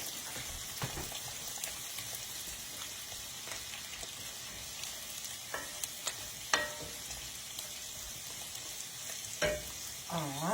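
Green beans fry in bacon grease, giving a steady close sizzle and crackle with a few louder pops and stirring clinks. No one speaks.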